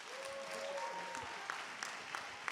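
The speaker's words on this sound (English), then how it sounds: "So let's give them a round of applause." Audience at a church Black History program breaks into applause, a steady wash of clapping in a hall with a few sharper claps standing out and a brief tonal sound early on.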